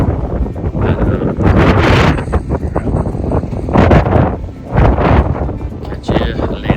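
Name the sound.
wind blowing on a hiking trail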